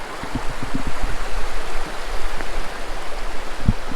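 A river runs under a small bridge in West Wales, a continuous moderate babble of flowing water with a few soft low knocks and splashes, and no one speaking.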